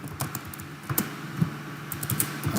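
Irregular keyboard typing clicks patter through the clip at moderate loudness, with bursts of quick keystrokes and short pauses, heard alone without talk while working on a Windows computer.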